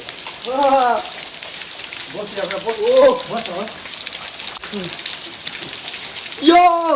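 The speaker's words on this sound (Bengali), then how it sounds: "আর এই দিক দিয়ে জল পড়ছে" Natural waterfall where people bathe, pouring steadily as a constant broad wash of falling water, with voices talking and exclaiming over it at several points.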